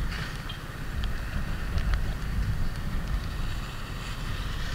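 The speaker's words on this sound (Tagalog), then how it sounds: "Malakas na hangin habang tayo nagbibiga-biga." Strong typhoon wind roars steadily while riding a motorcycle, a loud low rumble buffeting close to the microphone with a faint hiss above it, no voices.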